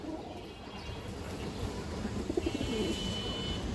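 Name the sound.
pigeons cooing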